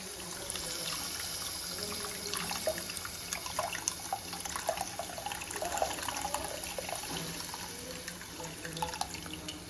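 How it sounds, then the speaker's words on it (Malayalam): Tamarind water trickles and splashes steadily into a pan, with small drips and a faint background hum throughout. "നമുക്കിനി ബാക്കി ഇരിക്കുന്ന പുളിവെള്ളം കൂടെ ചേർത്ത് കൊടുക്കാം"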